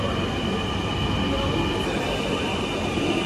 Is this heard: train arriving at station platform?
yes